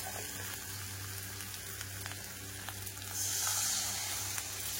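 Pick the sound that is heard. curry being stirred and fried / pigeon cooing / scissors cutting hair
curry being stirred and fried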